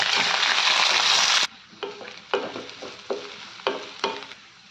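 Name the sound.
chopped onions frying in pan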